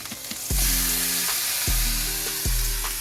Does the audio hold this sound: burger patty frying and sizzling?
yes